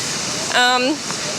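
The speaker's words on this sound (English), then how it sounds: "You might hear it's very loud behind me because there's a river." A loud river rushes at the bottom of a valley in Germany's Harz Mountains in winter, a steady, close, broadband roar throughout, with a person briefly speaking over it midway.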